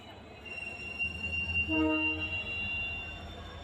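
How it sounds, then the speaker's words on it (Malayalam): A train rumbles and squeals faintly at a distance as it moves at a station, with a high metallic whine and a brief horn-like tone. "അവിടുന്ന് ഇപ്പോൾ ഒരു ട്രെയിൻ എടുക്കുന്നുണ്ട്"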